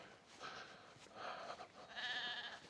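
Several sheep bleat in short overlapping calls, moderately close, with open outdoor air around them on a countryside hike between Ashbourne and Glossop, and no talking.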